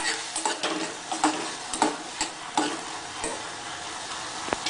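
Sweet corn cooking in a pan with salt and pepper, soft steady sizzle broken by light scraping stirs and clicks of a spatula against the pan, close and fairly quiet.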